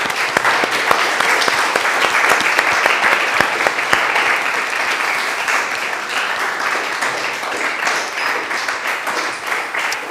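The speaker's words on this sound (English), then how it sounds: "I think it takes your applause." A lecture audience breaks into dense, sustained applause after a talk, loud and even throughout, thinning slightly toward the end.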